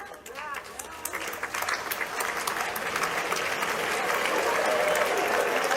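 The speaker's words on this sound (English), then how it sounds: "Parents are applauding" Parents in a crowded graduation audience applaud a speech, a dense wash of clapping that builds steadily and stays loud throughout.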